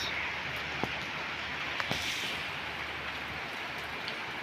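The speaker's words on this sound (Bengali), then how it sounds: "প্রচুর পরিমাণ বৃষ্টি এবং ঝড় হচ্ছে" Storm rain hammers down in Dhaka during a May tempest, a loud, even hiss of heavy rainfall with a few scattered drips and clicks, no voices.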